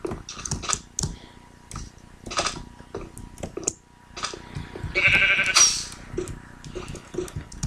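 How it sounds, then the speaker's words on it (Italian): Sheep bleating in the video game Minecraft, a short bleat rising amid irregular bursts of keyboard typing and clicks, with brief faint voices. "è spawnato una nuova pecora"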